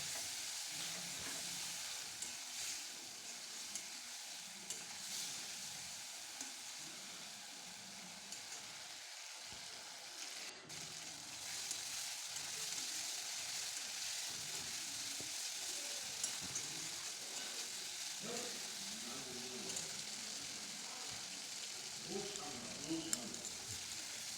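Ground spice paste for koi fish and cauliflower curry fries in a pan with a continuous, fairly faint hiss and sizzle, with soft stirring scrapes and some faint voices in the background.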